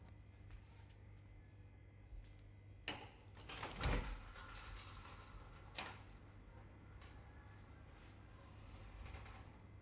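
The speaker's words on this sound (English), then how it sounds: "I'm going to open my door." An interior door is opened by hand, giving a short mechanical rattle and thump near the middle, with a few fainter clicks and knocks around it over a low steady room hum.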